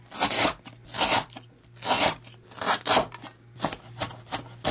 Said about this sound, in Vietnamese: Sả thì mình dùng 3 tép to, cắt khoanh ra.